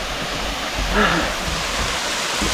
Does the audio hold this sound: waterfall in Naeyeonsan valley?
yes